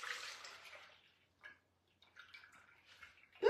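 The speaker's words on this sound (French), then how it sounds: "Donc là, on va égoutter notre quinoa." Water draining from soaked quinoa poured into a colander: a soft splashing pour that fades out, then scattered faint drips and trickles with a small clatter at the end.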